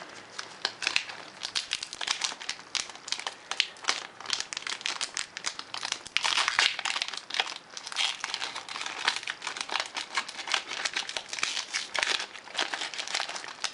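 A Pokemon Black and White 2 booster pack wrapper is torn open and handled, giving close, continuous crinkling and crumpling of foil plastic with uneven bursts of louder rustle.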